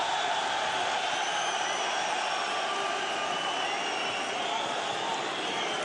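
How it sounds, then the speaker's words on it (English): A French arena crowd at a Bellator MMA event roars in support of a French fighter, a dense, continuous wash of cheering that holds steady throughout. "And now this French crowd get behind the French fighter."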